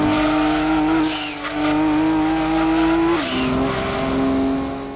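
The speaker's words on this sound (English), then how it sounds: "That's another sound effect that defines Gran Turismo 2, the turbo wail." Turbo wail from a car in the Gran Turismo 2 racing game, a loud steady high whine over engine drone with pitch shifts as the car changes speed, sustained with no talk.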